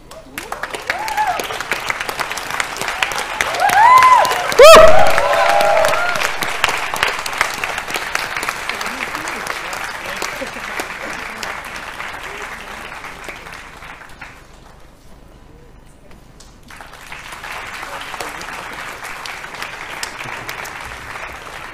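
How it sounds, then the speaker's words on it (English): An audience at a prize ceremony applauds steadily for a long stretch, with a brief swell of cheering early on; the clapping fades, pauses, then resumes. "could you also give a big round of applause to our other finalists"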